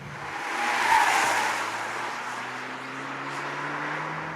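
A Peugeot RCZ with a 200 horsepower 1.6 turbo petrol engine being driven, a smooth, moderate engine hum blended with broad road and wind noise, swelling briefly then holding steady.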